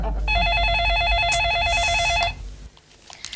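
Telephone rings during a call in a Hindi sitcom household scene: a steady, loud warbling electronic ring tone repeats for about two seconds, then stops, leaving quieter room noise.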